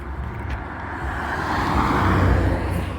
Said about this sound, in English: Truck coming through now down there.